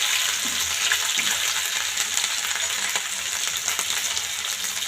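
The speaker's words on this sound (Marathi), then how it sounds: "तेल छान असं तापलेलं आहे तुम्ही आता मोहरी घालते एक चमचा मोहरी घातलेली आहे" A spoonful of mustard seeds and then cumin hit hot oil in a pan, giving a continuous close frying sizzle with faint crackles and no talk.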